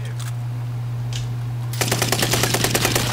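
Rapid gunfire in a video game, a quick run of sharp shots starting partway through after a quieter stretch with faint distant pops, loud and close over a steady low hum.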